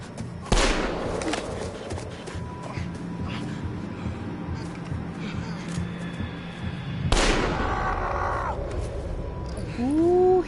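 Two sharp gunshots ring out in the horror video game The Quarry, one early and one around the middle, each followed by a decaying echo amid ambient rumble and brief tonal game sounds near the end.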